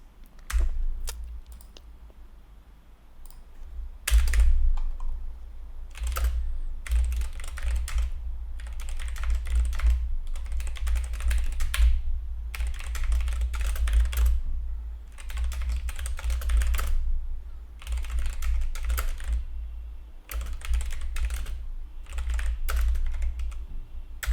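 Steady bursts of typing on a computer keyboard while writing PyTorch code, close and clear, with irregular clusters of keystrokes separated by short pauses and no speech.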